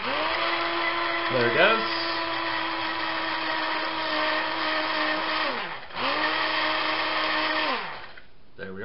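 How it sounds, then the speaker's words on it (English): Blender purees raspberries with a steady high motor whine that cuts out near the middle, then starts again and winds down at the end, close and loud, as a voice speaks briefly over it. "it can take a little while for all these raspberries to actually puree in the blender"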